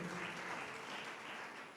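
A congregation at a church service applauds together, a dense continuous clapping that fills the short moment at moderate distance.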